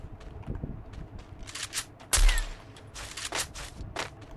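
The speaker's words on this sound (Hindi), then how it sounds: "ये हमारा विदाउट स्कोप जाएगा शॉट" AWM sniper rifle fired without the scope in Free Fire, a single loud sharp shot near the middle standing out among other scattered gunfire, clicks and in-game footsteps.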